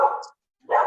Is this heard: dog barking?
yes